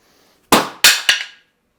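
A wooden loose tongue and groove joint cracks apart under a strength test: three sharp, loud snaps in quick succession, each ringing briefly before fading, with no talking.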